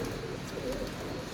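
Pigeons, including an almond-headed bird and a golden pigeon, coo in a loft as a low, continuous burble under a broad hiss of background noise.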